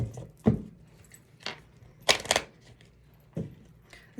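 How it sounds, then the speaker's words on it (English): Tarot-style card deck being shuffled by hand, a few sharp separate riffles and slaps with quiet gaps between, close and fairly soft, no speech. "This deck, I always botch the shuffling."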